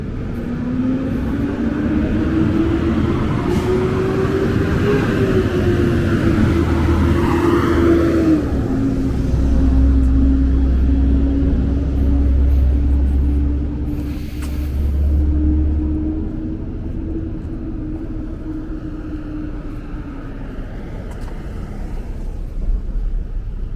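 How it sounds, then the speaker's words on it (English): A delivery truck idles and rumbles on a Brooklyn city street in the early morning, its steady low engine drone close and loud, the pitch shifting slightly as it revs, with faint traffic noise around it. "Got another truck here making a delivery,"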